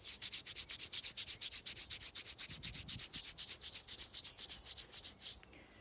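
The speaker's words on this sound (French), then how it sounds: "Je frotte avec ma paume de main." Palms rub briskly against the backs and sides of the hands during a self-massage, giving a steady run of about thirty soft, dry swishing strokes, close and even in rhythm, with no talking over them.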